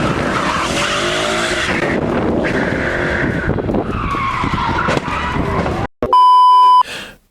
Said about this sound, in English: we have this Roush supercharged Mustang that we were hoping would not end up in a Mustang Mac compilation